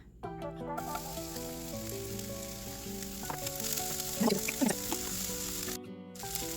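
Onions frying in avocado oil in a pan over low heat, a soft steady sizzle with a few louder crackles and stirs, heard under background music.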